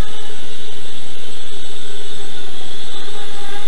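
An RC carbon fiber Xcopter flying saucer hovers at about a quarter throttle, its motors giving a loud, constant high-pitched whine and hiss that holds steady throughout.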